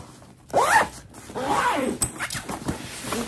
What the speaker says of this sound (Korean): 이 중간 부분 지퍼 있거든요. 여기를 돌려가면서 쭉 닫아주면 압축이 돼요